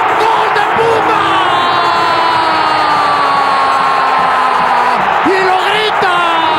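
Huge stadium crowd at Ciudad Universitaria roaring and cheering a Pumas goal in a Mexican league football match, a loud continuous wall of sound with whoops and yells, an excited commentator's voice riding over it.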